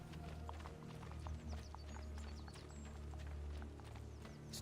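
Horses trail the player in Assassin's Creed 2 with a steady clip-clop of hooves, soft and continuous in the background throughout.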